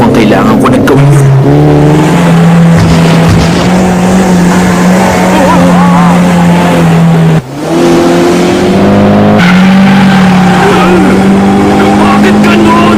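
Race cars roar and accelerate in the Initial D driving game, a loud, sustained engine drone rising in pitch through gear changes, with a brief cutout midway and a voice talking over it.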